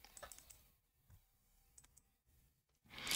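Faint, sparse computer mouse clicks tap out a few times in a quiet room, followed by a louder rustling burst at the close.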